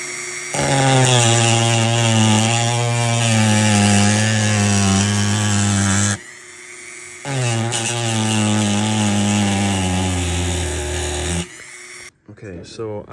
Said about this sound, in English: Okay, so I just trimmed this up even more to try and fit it with that line